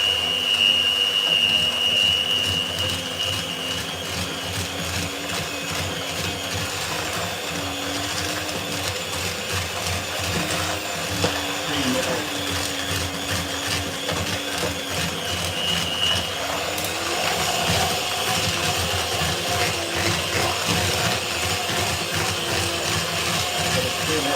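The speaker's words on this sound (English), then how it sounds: "Now you whisk together." Caster sugar and brown sugar whisked together by an electric mixer, a continuous loud motor whine with a gritty churning texture running steadily throughout, close by.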